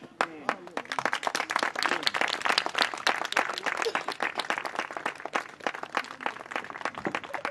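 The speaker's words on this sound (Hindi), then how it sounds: "हम एक बार परमेश्वर की तालियां को देंगे" A church convention audience breaks into applause, dense scattered clapping from many hands, moderately loud, with voices mixed in.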